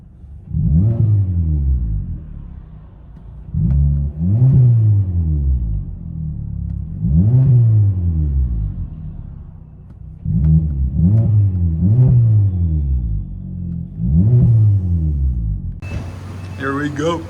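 A 2020 Hyundai Elantra 2.0 with a Netami resonator and muffler delete revs in about seven loud, rising-and-falling bursts over a deep idle rumble, close by.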